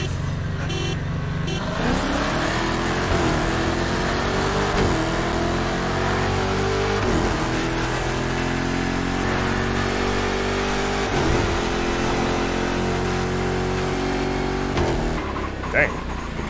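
Cars race in the video game The Crew Motorfest, engines droning loudly with repeated gear-change dips and rising pitch as they accelerate, while people talk over the constant engine noise.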